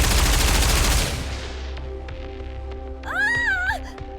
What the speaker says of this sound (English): An experimental suppression round developed for Anachiro. It sends a shock to the nervous system and renders the victim unconscious.